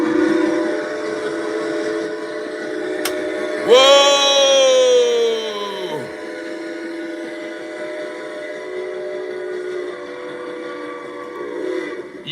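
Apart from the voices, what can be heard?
train sound effect played on a trading stream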